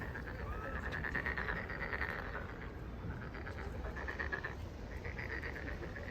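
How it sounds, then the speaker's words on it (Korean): Frogs croaking near a small puddle on a family trip in Seosan, a dense, continuous chorus of repeated rattling calls swelling and fading in waves, moderately near, with insects faintly beneath. "아, 개구리잖아."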